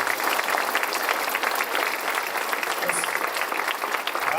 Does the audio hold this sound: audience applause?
yes